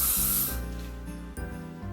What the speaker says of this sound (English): I have chosen this hairspray because it's soft and my hair is still clean and shiny.